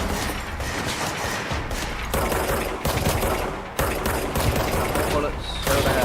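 Gunfire from the video game Control: rapid, continuous bursts of shots and automatic fire fill the whole stretch, loud and dense, with a brief dip before the firing resumes.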